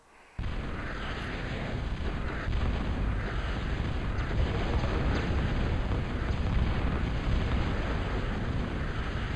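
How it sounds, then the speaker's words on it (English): Bombs from a bombing run in a flight combat game burst in a loud, rumbling barrage that begins abruptly and then rolls on without a break, with no voices. "So we can go ahead and we'll watch the run here. This is experienced bombing versus inexperienced bombing."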